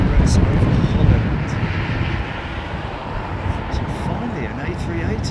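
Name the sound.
Airbus A380 airliner flying at London Heathrow Airport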